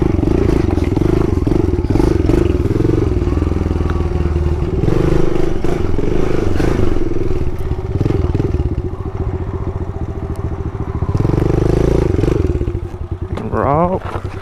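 A pit bike engine drones steadily at close range while riding, with clattering and scraping. Revs rise and fall, and a rough sputtering patch comes near the end. Bits of talk are mixed in.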